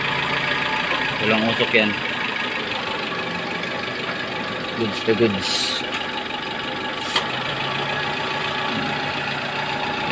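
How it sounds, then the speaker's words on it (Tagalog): A Suzuki engine idles quietly with a low, steady hum, while someone talks over it in short bursts. "Umaandar yan. Tahimik yung kanyang andar."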